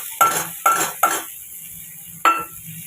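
Maggi noodles stirred with a utensil in oil left from frying pointed gourd, with onion, garlic and green chilli in the pan: four sharp scraping clinks against the pan over a faint sizzle.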